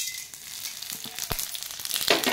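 Masala spices frying in hot oil in a clay pot, a steady broadband sizzle with a few sharp crackles and pops, growing slightly louder toward the end, with no talking.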